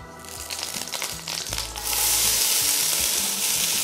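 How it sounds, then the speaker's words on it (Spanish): A cup of onion sautéing in a spoonful of hot olive oil, a close sizzle with scattered stirring clatter that swells into a louder, denser hiss partway through, no talking. "Esa cebolla es importantísimo que esté casi quemada. Así que vamos a sofreír aquí un buen rato."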